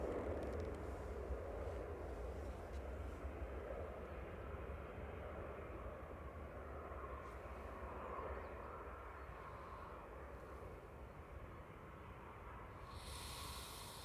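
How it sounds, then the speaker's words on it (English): A Ryanair Boeing 737 Max 8-200 departing Manchester Airport for Funchal, Madeira, a faint, steady distant jet rumble and hiss that slowly recedes, with a burst of hiss at the end. "Ryanair Flight 7 there, heading back to Funchal on Madeira. EIIGK, that's a Max 8-200 departing."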